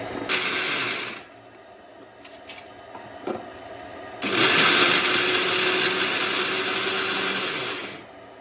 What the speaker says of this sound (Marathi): जे भाजलेले शेंगदाणे आहेत त्याचा कूट करून घ्यायचा आहे मिक्सरमध्ये बारीक करून